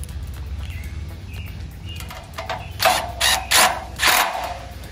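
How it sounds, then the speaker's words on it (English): Ratchet driving a screw back into a ladder leveler, a few quick, close, metallic clicking strokes in separate bursts over a faint background hum. "Now we close this and put the screw back on."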